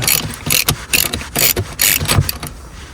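A pipe-cutting tool is turned around a water pipe during a leak repair, giving rapid clicking, ratcheting mechanical bursts in an uneven rhythm, close and fairly loud, with no talk.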